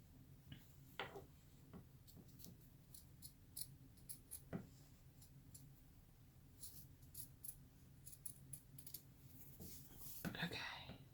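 Scissors trim around a chain-stitched felt cupcake patch, giving faint, scattered snips and ticks in a quiet room. Soft low talk runs underneath.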